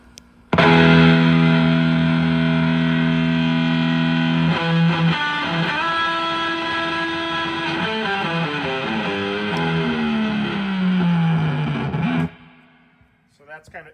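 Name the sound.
high voltage distortion guitar pedal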